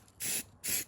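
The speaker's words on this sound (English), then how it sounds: "when I get to spraying the first coat on" Spray paint going onto the subframe of an E36 BMW 328i: two short, close hissing bursts from the aerosol can, each about a fifth of a second, with a brief pause between them.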